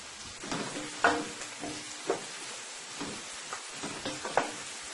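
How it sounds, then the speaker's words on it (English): Food sautéing in a pan for stew chicken, a steady close sizzle broken by several sharp scrapes and taps of a utensil stirring and tossing, with no talking. "Look how nicely this is sauteing."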